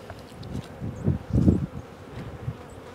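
Bees buzz around hives outdoors as a low, wavering drone that swells and fades across a few seconds, with faint rustling and handling noise close to the microphone.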